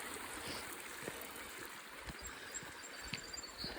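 A small snowmelt waterfall trickling outdoors, a faint, steady watery rush with occasional soft splashes, heard alone.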